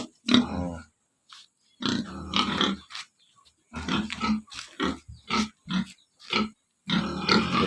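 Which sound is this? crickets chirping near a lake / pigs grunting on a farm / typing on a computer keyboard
pigs grunting on a farm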